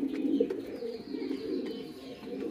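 A King pigeon coos nearby in low, soft, rolling tones, repeating its murmuring call steadily over a couple of seconds with faint background noise.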